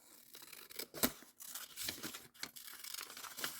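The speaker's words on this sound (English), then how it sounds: "I'm just going to cut this one in half." Foamcore board being cut in half for a craft-room box, with a run of short crisp slicing and tearing sounds and one sharper snap near the middle, close and fairly quiet.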